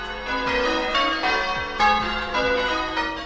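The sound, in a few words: church bell ringing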